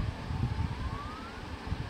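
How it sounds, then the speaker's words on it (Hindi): A faint, thin siren-like beep from a used Samsung Galaxy phone's receiver rises slowly over a low rumbling background hum. "हल्का हल्का एक सायरन बीप सुन रहे"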